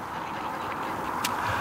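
Ducks quack at a lake amid a steady background wash, a couple of short calls heard at moderate distance with no talk.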